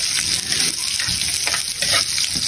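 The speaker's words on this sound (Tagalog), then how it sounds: "Sunog na ang ating mantika mga pare ko. So maglalagay na tayo ng bawang." Garlic frying in hot cooking oil, a steady close crackling sizzle with faint bubbling pops throughout, no voices.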